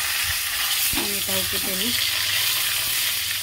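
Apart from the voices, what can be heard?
eggplant frying in a pan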